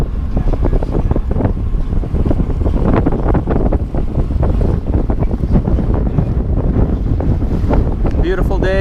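A sailboat under way in about 10 to 12 knots of wind, with heavy wind buffeting across the microphone and the wash of water along the hull, loud and constant, with a short voice near the end.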